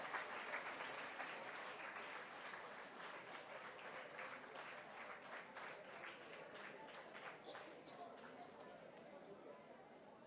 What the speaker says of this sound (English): A big round of applause for all the winners and would-be winners.